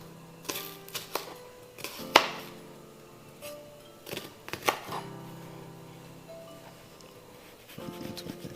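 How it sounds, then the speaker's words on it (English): A knife roughly chops shallots on a cutting board for shrimp scampi, with several sharp, irregular knocks close by and short pauses between bursts of cuts. "I'm just gonna kind of give a nice rough chop."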